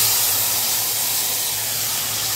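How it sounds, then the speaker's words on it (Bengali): Black cumin and cumin seeds sizzle in hot oil in a wok, a loud, continuous hiss that stays steady throughout without pause. "এই যে কড়াইতে তেল দিয়ে দিয়েছি, কালো জিরে আর জিরে ফোড়ন দিয়ে করলে ভালো লাগে"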